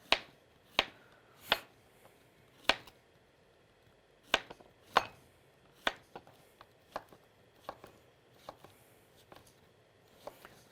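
A knife cuts zucchini into thin slices with crisp, separate taps on a cutting board, starting with a few spaced strokes and picking up into a quicker, lighter rhythm, near and fairly quiet.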